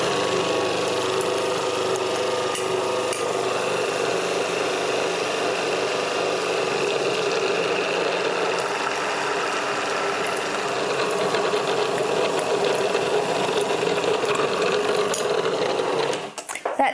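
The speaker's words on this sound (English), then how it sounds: "So while the motor's running, I'm going to add the egg and sugar in a very slow and steady stream" A food processor motor runs steadily and loudly while egg and sugar are poured into pastry dough for a lime mascarpone tart, a constant mechanical whir holding for about sixteen seconds before cutting off abruptly at the end.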